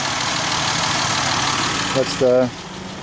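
A Dodge Nitro being checked for a misfire idles steadily with no fan installed, a low continuous engine hum; a brief voice cuts in near the end.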